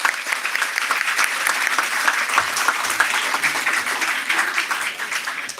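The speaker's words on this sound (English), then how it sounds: "A big round of applause, please." Audience applause for a guest at a school event at Bhavans Amritsar, sustained and dense, with many hands clapping steadily throughout at close range and no talking.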